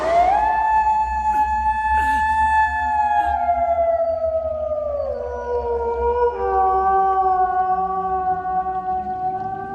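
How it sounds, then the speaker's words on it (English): Several dogs howl together in long, sustained, wavering tones that slide slowly downward, loud and close, with overlapping voices and no talking. "It seems they have released the dogs."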